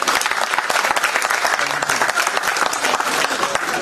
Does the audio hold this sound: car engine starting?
no